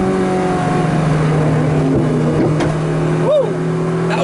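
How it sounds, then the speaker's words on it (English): A Ferrari 458 Speciale engine accelerating hard, a loud sustained drone with steady harmonics and a brief whistling, turbo-like tone that rises and falls near the end, with faint voices in the background. "That was a noisy turbo."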